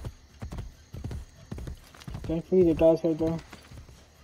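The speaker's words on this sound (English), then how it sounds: "the horse is pretty much useless right now" Hoof clip-clop and a short horse whinny from the horse in the game Assassin's Creed Brotherhood, mixed in under someone talking over gameplay, with the neigh loudest near the middle.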